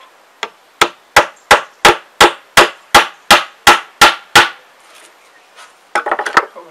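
A hammer drives nails into wood for a workshop tool organiser, thirteen sharp, evenly spaced strikes ringing close and loud, followed by a short clattering rattle.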